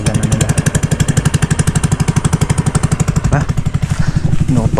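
A small wooden boat's engine runs loud and close with a steady, rapid chugging pulse, its rhythm unbroken for the whole stretch, and faint voices occasionally break through.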